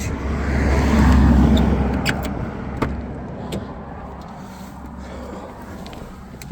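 Car driving off on a daylight tour of Kirkcudbright, a close engine rumble swelling then fading over several seconds, with a couple of sharp knocks like a door or the body shifting.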